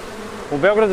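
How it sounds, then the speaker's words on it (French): Bees buzzing in the Serbian capital Belgrade, a close, loud insect drone that swells sharply in the second half of a brief moment. "Les abeilles s'épanouissent dans la capitale serbe, l'une des plus grandes villes des Balkans."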